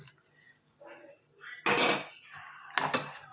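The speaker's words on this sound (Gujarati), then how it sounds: "સરસ બધું મિક્સ કરી લઈએ." Masala ingredients with coriander and lemon juice are stirred in a bowl, producing scattered metallic clinks and scrapes of a spoon against the dish, two louder clattering bursts standing out against a quiet kitchen background.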